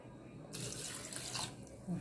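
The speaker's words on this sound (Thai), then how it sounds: "น้ำซาวเขาใส่มันเข้าไป" Rice-washing water pours into pickled mustard greens as a short, close gush of running water that rises, holds for about a second, then fades under quiet room noise.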